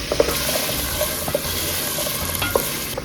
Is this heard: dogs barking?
no